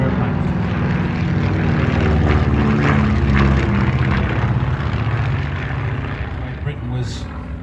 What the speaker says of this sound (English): this is basically a 1935 aeroplane